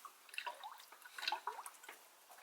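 Coolant bubbles and gurgles in a Mazda RX7's cooling system after a coolant change with the engine off, a faint, irregular patter of small pops and drips heard up close in a quiet setting.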